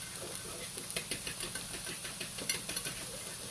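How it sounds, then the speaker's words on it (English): A whisk works through a thickened teriyaki sauce in a pan of Asian chicken and vegetables, giving soft scraping taps in an uneven rhythm against a steady background hiss. "Sort of whisk that around."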